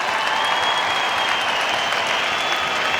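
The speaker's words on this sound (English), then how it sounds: "so a big round of applause for Lee McGregor, guys." Boxing arena crowd applauding after a featherweight fight, a dense, even roar of clapping that fills the space steadily from start to finish.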